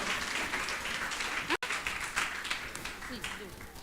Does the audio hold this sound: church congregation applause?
yes